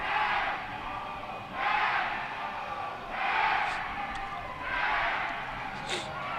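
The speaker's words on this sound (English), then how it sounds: "If you can hear going on right now, they got the Wolfpack chat going on." Wolfpack fans chant in rhythmic, swelling waves of massed voices at an ice hockey game against Charlotte, three or four loud surges rising over a steady arena crowd roar.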